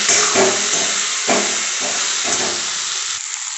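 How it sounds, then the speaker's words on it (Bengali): Spice paste with chopped green chilli fries in a pan, giving a steady close sizzle and hiss with a few soft scraping stirs; no one speaks. "মশলাটাকে বেশ ভালো করে ভেজে নিতে হবে।"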